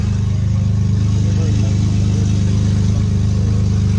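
A loud, deep exhaust on a 2002 GM F-body car rumbling steadily, close by, with a throaty low drone that holds at a constant pitch.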